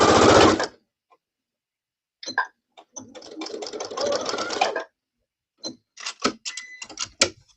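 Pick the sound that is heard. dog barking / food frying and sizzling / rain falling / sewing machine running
sewing machine running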